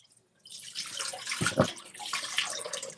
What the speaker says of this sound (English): Let me pour out this water.